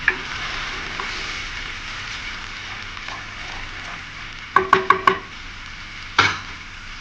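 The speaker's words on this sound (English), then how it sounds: "Add the General sauce into it and quickly bring it to a boil" General Tso sauce sizzles and bubbles in a hot pan for tofu, a steady broadband fry that runs throughout, with a quick cluster of four sharp utensil clacks near the end and one more knock shortly after.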